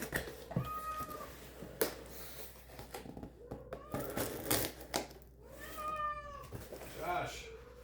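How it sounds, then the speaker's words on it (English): A cat whining in a corner indoors, giving several drawn-out, rising meows at moderate distance, mixed with scattered clicking and shuffling noises and background room sound. "Don't mind my cat. She's whining over here in the corner."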